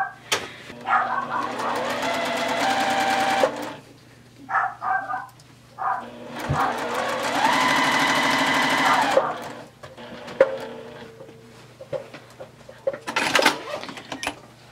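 A sewing machine stitches down a quilt binding in two long, loud runs, each a few seconds, separated by quieter handling noises and short bursts, with a steady low hum underneath.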